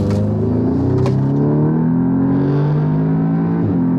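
An Audi S3 fitted with a new engine accelerates hard during a road test, a loud close engine note climbing in pitch with a brief gear change partway through, no talking.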